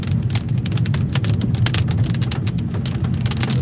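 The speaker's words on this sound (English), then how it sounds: "Sounds like this wants to go hail." Dense, steady rain pelts a car with sharp, irregular clacks of hailstones striking metal and glass during a storm southwest of Odessa, Texas, loud and close throughout.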